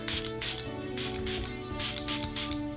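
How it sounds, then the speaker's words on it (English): Catrice Prime and Fine Dewy Glow Fixing Spray gives several short, soft hissing spritzes in uneven bursts, faint and close, over a quiet background. "I also want to use the Catrice Cosmetics Prime and Fine Dewy Glow Fixing Spray."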